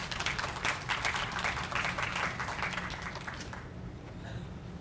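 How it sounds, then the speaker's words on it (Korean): Applause from an audience at a political party youth and women members' training lecture welcoming the speaker, a dense burst that tapers off toward the end. "우리 강의 시작할 때 우리 큰 박수로 맞이해 주시기 바랍니다."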